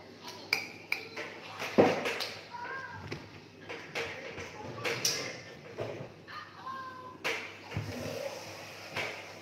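A metal spoon clinks and taps on a plate while someone eats a home-cooked Indonesian meal of vegetable lodeh and corn fritters, scattered close clinks across the clip under soft background noise.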